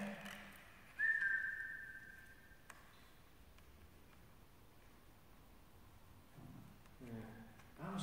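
A person whistles one short sustained high note inside the Abertillery Miners Institute, faint and isolated in a quiet, hissy room, followed later by soft indistinct voices.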